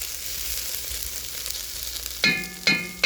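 Tomato paste frying in a pot for beef stew gives a steady, soft sizzle while it is stirred. Three sharp metallic clanks of the utensil against the pot ring out near the end, with no talking.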